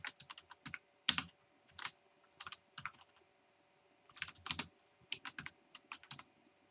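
A name being typed on a computer keyboard, with a few short bursts of crisp keystrokes separated by pauses, close and quiet, with no talking.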